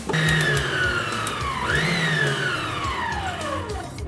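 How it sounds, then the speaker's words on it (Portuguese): An electric stand mixer whirs steadily while beating chocolate mousse batter with melted chocolate, a continuous mid-pitched motor hum with a rising and falling tone, running alone and fairly loud throughout. "Vou voltar a batedeira."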